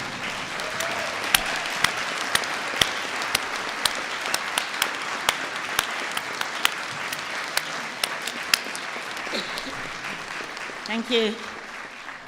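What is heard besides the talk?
graduation ceremony audience applauding teachers and staff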